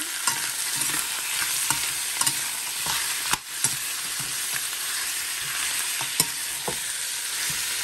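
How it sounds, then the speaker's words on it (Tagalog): Pork ribs sautéing with onion and garlic in a pan for caldereta, stirred over and over, giving a steady sizzle broken by sharp scrapes and clinks of the spoon. "Nilalagay na natin yung ribs. Haluin lang natin ng haluin."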